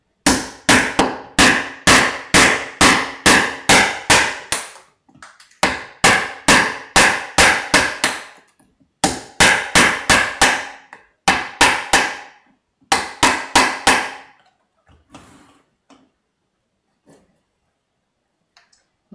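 A mallet drives a chisel to chop away wood, sharp loud strikes in quick rhythmic runs of about eight to ten blows, separated by short pauses and thinning out toward the end.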